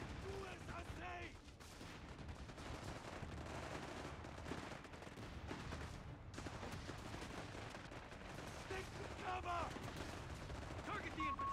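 Rapid rifle and machine-gun fire crackles through a Company of Heroes battle, dense overlapping bursts and shots mixed with distant booms, with shouted voices breaking in over the combat.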